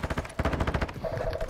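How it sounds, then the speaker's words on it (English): Rapid automatic gunfire in DMZ, shots coming through a wall from enemies just outside a building, a fast burst of repeated bangs that stops after about a second, leaving a faint tone and game ambience. "I'm getting shot through the wall."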